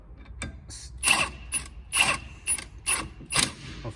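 A ratchet wrench tightens wheel bolts on a Mk4 4motion car being fitted with Rotiform wheels on adapters: rapid clicking in several separate bursts, close up and clear, with no voices.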